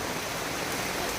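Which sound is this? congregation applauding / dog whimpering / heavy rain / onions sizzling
heavy rain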